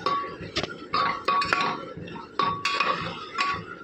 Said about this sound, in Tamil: கொஞ்சம் கூட தயிர் ஊற்றி நல்லா கலக்கணும்.